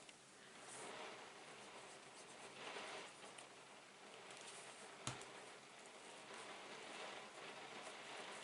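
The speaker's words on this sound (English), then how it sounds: "I'm sorry if you can hear the rain." Steady rain falls outside during an indoor card-making session, a continuous soft hiss and patter filling the whole stretch with one brief sharp knock about midway.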